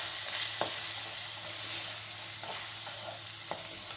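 Chopped vegetables and lentils for a sambar frying in a pan, with a steady close hiss of sizzling broken by a few sharp scrapes of stirring; no one speaks.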